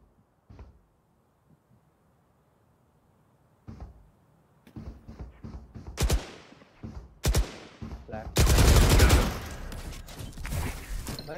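Shotgun blasts in an online shooter game ring out after quiet stretches, a few sharp separate bangs followed by a dense, loud burst of gunfire near the end, with faint voices in between.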